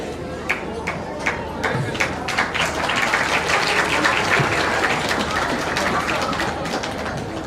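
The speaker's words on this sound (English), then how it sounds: "Another big round of applause for His Holiness Bhakti Rasayana Sagar Swami." An audience at a Krishna Janmashtami festival gathering claps for Bhakti Rasayana Sagar Swami, scattered sharp claps building into a full round of applause, with a voice heard over it.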